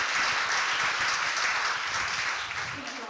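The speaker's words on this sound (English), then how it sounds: "So another big round of applause, and thank you for our panelists" An audience applauds panelists after a space suit discussion, steady dense clapping filling the room at moderate loudness, tapering slightly near the end.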